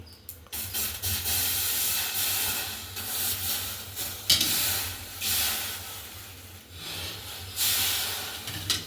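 Green chilies sizzling on a hot plate give a steady, fairly close hiss and crackle, surging in several louder bursts as they spatter and fry, with no talking over it.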